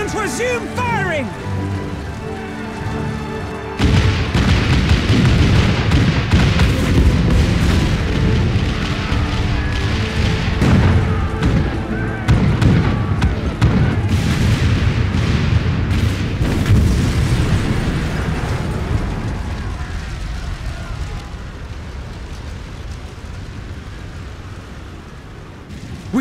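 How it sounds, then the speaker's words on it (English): Cannons boom repeatedly in a Final Fantasy XIV battle scene, a dense, loud barrage of blasts and rumbling impacts under orchestral music, fading toward the end. "All cannons resume firing!"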